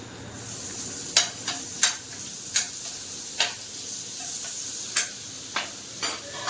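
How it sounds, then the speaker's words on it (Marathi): Butter sizzling around a homemade chicken pizza baking in a covered pan, a steady soft frying hiss broken by sharp spattering pops every half second or so, moderately close with no talk. "थोडंसं बटर सोडते बाजूनी"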